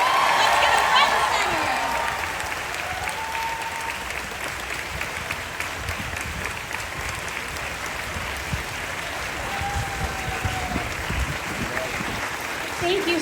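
A large theater audience applauds loudly and steadily at a Disney's Hollywood Studios 35th anniversary celebration, the dense clapping holding for the whole stretch with a faint voice beneath it.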